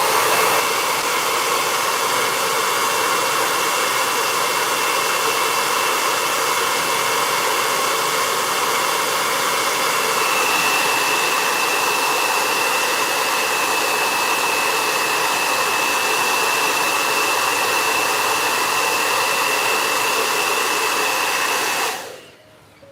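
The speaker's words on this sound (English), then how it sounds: "So now I'm just gonna dry this really fast. I'm gonna use my blow dry. It's gonna be loud" A blow dryer used to dry press-on nails roars loudly and steadily at close range for about twenty seconds, then cuts off abruptly near the end.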